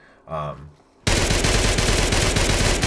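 An Enfield MP-45 .45 machine pistol fires a long, unbroken burst in Fallout 4, loud rapid shots run together into a roar right after a brief spoken word.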